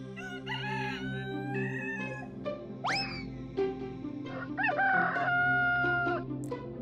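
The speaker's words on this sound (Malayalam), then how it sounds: "പക്ഷെ എന്തൊക്കെ പറഞ്ഞിട്ടും കോഴി കൂവുന്നത് നിർത്തിയതേയില്ല." Roosters crow in a loud, near sequence of drawn-out rising and falling calls, several crows overlapping and following one another over a steady background, with no talking.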